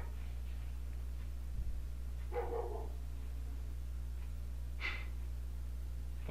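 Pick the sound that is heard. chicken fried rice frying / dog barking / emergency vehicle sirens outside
dog barking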